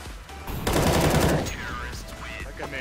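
Rapid automatic gunfire bursts out in a Counter-Strike: Global Offensive match, loud and close for about a second, followed by quieter game sounds and faint distant shots.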